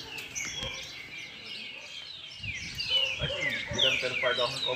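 Small songbirds chirp and trill constantly at an outdoor gathering of bird keepers, many overlapping high twittering calls, moderately close, with low background rustle and faint voices underneath.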